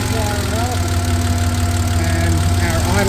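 A 1987 Porsche 911 Carrera engine idles steadily up close, a low even rumble with a faint whine running through it.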